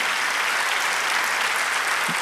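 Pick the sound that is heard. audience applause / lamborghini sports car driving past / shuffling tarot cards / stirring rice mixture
audience applause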